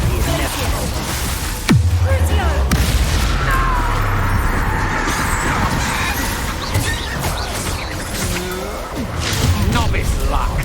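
Spell blasts and booming impacts during Hogwarts Legacy combat, a sharp burst early then rumbling crashes amid busy game effects, with a voice shouting over them.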